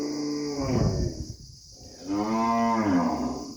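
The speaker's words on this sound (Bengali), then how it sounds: "গরু ডাকতেছে গরু আছে" Two long, deep cow moos, one after another with a short pause between, loud and close, with no talking.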